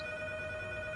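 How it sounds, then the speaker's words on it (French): Telephone ringing steadily for about a second, a bright electronic ring with sustained tones, alone with no talk. "Téléphone!"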